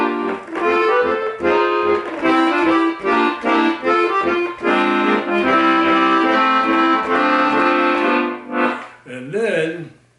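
An accordion plays the chorus of a song, with bright reedy chords and melody in short phrases, close and full, ending with a brief fade.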